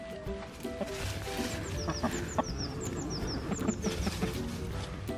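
Chickens cluck repeatedly in a yard, a steady scatter of short fowl calls at moderate distance with faint background noise and no clear speech.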